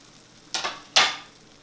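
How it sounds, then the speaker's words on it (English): Two sharp bursts of hissing sizzle, one after another, as a sandwich hits a hot panini press, fading quickly each time in a quiet room. "Oh, you hear that sizzle?"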